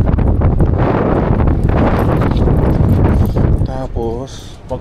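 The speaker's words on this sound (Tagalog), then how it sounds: "ngayong malakas ang hangin" Strong winter wind in Canada batters the microphone in a loud, rough roar for several seconds before easing, while someone speaks near the end.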